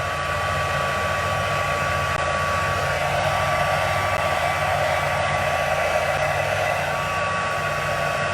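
A heat embossing tool blows steadily and loudly, melting white embossing powder on a Bermuda Bay tree card; a continuous, even hot-air roar with no voices.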